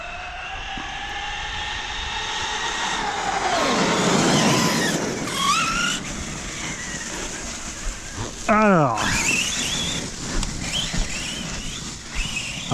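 A Traxxas Sledge RC car, run on 8S power in a cold wood, screams at sustained full throttle with a high whining motor pitch that rises, dips and climbs again, loud and continuous with gravelly noise underneath.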